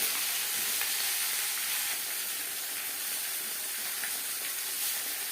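A ground paste of tomato, green chilli and ginger fries in hot oil in a pan, giving a dense, continuous hiss and sizzle at close range with faint stirring, and no talking.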